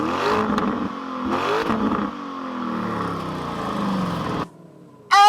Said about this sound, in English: That exhaust test.